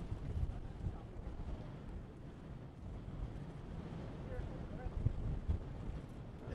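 Steady low wind rumble buffets the microphone at an airport in Shenyang as a plane lands, a constant dull roar with occasional gusty thumps.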